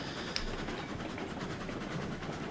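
A train runs steadily in a train driving video game, a continuous low rumble with faint rhythmic rail clatter and a single sharp click early on, moderately loud and without talk.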